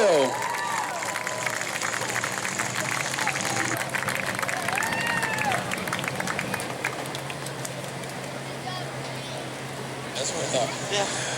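Crowd noise at a Mod Mini 50 stock car race in New Smyrna, a broad wash of cheering and applause from the stands greeting the winner, steady throughout with a public-address voice talking over it.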